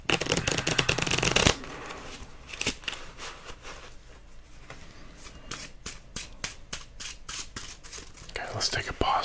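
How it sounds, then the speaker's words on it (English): Playing cards are shuffled up close in a quiet whispered ASMR solitaire session: a loud, dense riffle opens, followed by softer scattered taps and card handling under soft whispering. "Let's take a pause on the shuffling for a second and grab a couple more."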